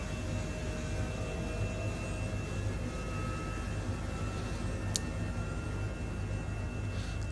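The twin engines of an Airbus H145 helicopter in a flight simulator, spooling up from idle as a steady, even turbine whine and roar with a faint rising tone, continuous throughout with one brief click partway.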